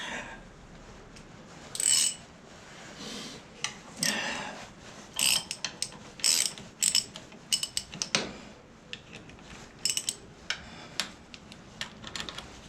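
A wrench ratcheting as a bolt is tightened on a David Brown 996 tractor during wing and final drive removal: short bursts of close metallic clicking with pauses between them, no talking.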